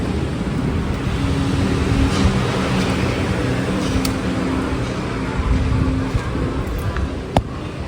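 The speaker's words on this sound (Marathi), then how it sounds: "आता गाडी लावतोय दादा" A car is being parked at a house, its engine idling with a low, steady hum that rises slightly as it maneuvers, ending with a brief click near the end.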